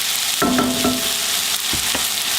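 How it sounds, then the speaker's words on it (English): Meat patties for old-fashioned Salisbury steak fry in a crowded skillet, a loud close sizzle with a few quick scrapes and knocks of a utensil as they are stirred around. "continue to stir them so that since you've got so much in the skillet, you want to make sure they rotate"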